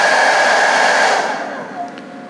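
A hairdryer on its high setting, powered by a Jackery 1000 portable power station, blows a loud steady broadband whoosh with a faint whine, then weakens and drops in level as the power station cuts out near the end.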